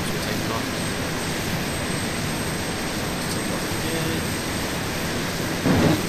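A jet plane takes off in the video game ARMA 2, a steady, dense engine roar that holds at an even loudness throughout, with a brief thump near the end.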